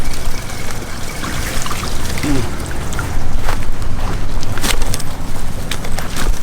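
Water rushes steadily at a waterfall and stream, a dense, continuous wash with a few brief sharper splashes, close and fairly loud throughout.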